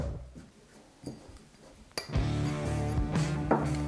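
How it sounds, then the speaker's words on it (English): Ice dropped into a mixing glass while making a Long Island iced tea variation, a few soft clinks and then a louder rattling clatter of cubes hitting glass, close and alone with no talk. "I'm gonna start by adding ice into a mixing glass"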